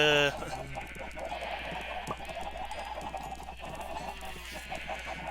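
Chickens in the Minecraft video game cluck continuously amid steady in-game background sound, with no talking.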